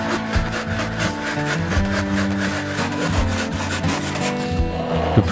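A hand saw rasps steadily, ripping thick wood pieces for a baritone guitar rosette, repeated back-and-forth strokes with a gritty, rhythmic texture, close and fairly loud.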